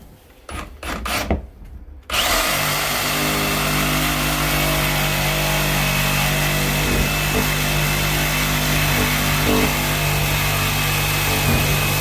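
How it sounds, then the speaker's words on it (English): Power saw cutting out a shower valve during a repipe of hot and cold risers: a few sharp knocks, then a loud, continuous grinding whine that keeps going unbroken for about ten seconds. "Now let's go upstairs and we'll cut that valve out."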